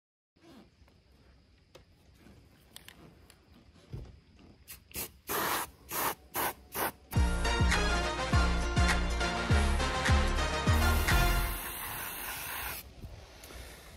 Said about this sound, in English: When you spray paint, it doesn't matter if there's a little bit of overspray